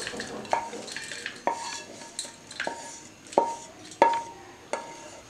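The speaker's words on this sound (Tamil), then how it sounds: "நல்லா மிக்ஸ் ஆகிற மாதிரி கிளறி விட்டுறணும்" A spoon stirring roasted lentils in a metal pan, making a run of about seven sharp metallic clanks and scrapes at uneven intervals, close and fairly loud over a faint background rustle.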